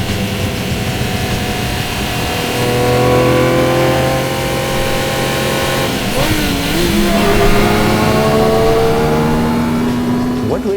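A 1985 Ferrari Testarossa engine drones and revs, pitch rising and falling with gear changes, heard steadily up close, with faint voices under it.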